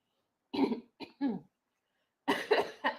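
A few close, harsh coughs in short bursts, a brief pause, then another rougher fit of coughing.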